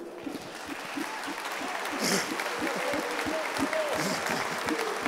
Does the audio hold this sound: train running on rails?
no